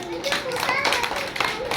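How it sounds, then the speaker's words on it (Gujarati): Young children in a classroom clap their hands together in an uneven, rhythmic burst, with children's voices chattering underneath. "તાળીઓ પાડો બધા પહેલા"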